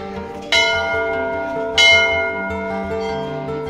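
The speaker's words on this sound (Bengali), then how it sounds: "উপরের ঘন্টাটা এসে বাজিয়ে দিলাম" A bell at the Shankaracharya temple in Kashmir, reached by a long stairway, is struck twice, each ring loud and close with a long metallic hum lingering between and after the strikes.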